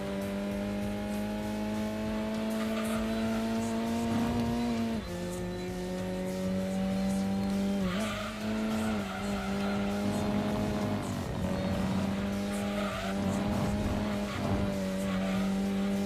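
Race cars drive a long endurance race in Gran Turismo 2, their engines whining steadily up and down through gear changes, with tire squeal as they take corners.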